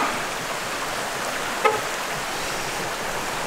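Shallow creek water flows along an off-road Jeep trail with a continuous, moderate, even rush, broken only by one brief splash or click partway through; no one speaks.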